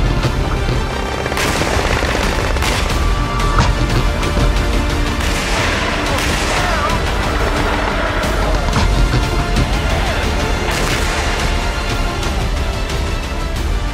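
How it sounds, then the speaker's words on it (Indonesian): A Leopard 2A4 tank fires its cannon during a Super Garuda Shield combat training exercise, with heavy blasts and booming explosions one after another. A dense, loud, rumbling barrage continues throughout. "kanon oleh tank Leopard 2A4 milik Yankav 8 sungguh dahsyat menggetarkan teater latihan pertempuran kali ini."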